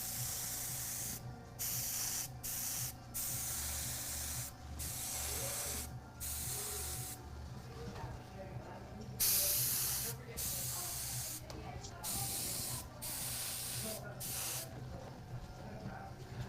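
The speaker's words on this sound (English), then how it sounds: "I'm going to do some airbrushing." An airbrush sprays paint in a continuous, close hiss that is cut off again and again by short gaps as the airflow stops and restarts, with one brief louder burst partway through.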